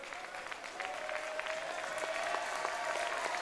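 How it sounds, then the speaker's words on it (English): Basketball fans at a high school game in a gym clap together in a steady patter of applause that builds slightly. A faint tone hums beneath the clapping. "Fans get up and start clapping because they already know this is done."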